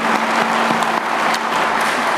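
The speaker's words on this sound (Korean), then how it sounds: "우리 박수나 한번 보내주시면 더 열심히 일하실 것 같습니다." A crowd applauds at a public policy event on advanced industries in the Yeongnam region, greeting a newly introduced Busan mayor with dense, steady clapping that holds evenly and close throughout, with no talking over it.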